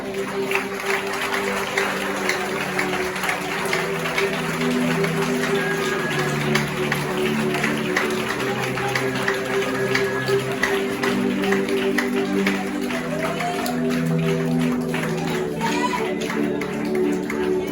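Audience applause at a church service, steady dense clapping that continues throughout with music or sustained tones beneath it.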